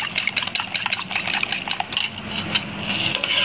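Eggs seasoned with black pepper and salt are whisked in a bowl, giving quick, light, irregular clicks and taps of metal on the bowl. The sound is close and moderately quiet.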